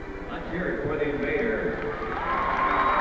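Crowd noise fills an indoor Civic Center arena during a 1987 indoor soccer match, a steady murmur of several thousand fans with scattered cheers, heard under an announcer's talk throughout.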